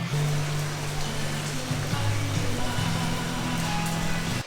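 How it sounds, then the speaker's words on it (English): Steady rain hiss in Thailand, close and fairly loud, with a low engine-like hum droning underneath throughout. "It had just started raining just as I was pulling in."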